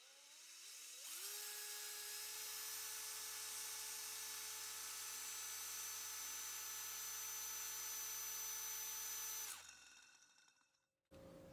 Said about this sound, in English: So this is all sanded up and prepped, ready for painting.